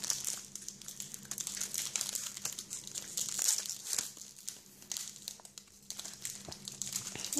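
The plastic wrapper of a Pokémon Crystal Guardians booster pack is torn and crinkled open up close, with irregular crackles and rustles running throughout, fairly quiet and without talk.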